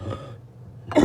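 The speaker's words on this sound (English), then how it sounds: "Still haven't got rid of this cough." A single short, rough cough right at the end, close and fairly loud, after a brief quiet moment.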